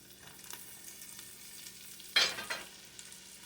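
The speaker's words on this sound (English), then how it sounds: "I'm going to add a little bit of these veggies in the bottom of this pot" Vegetables drop into a hot pot and sizzle, a sudden close burst of frying hiss that quickly fades back to a soft crackle in a quiet kitchen.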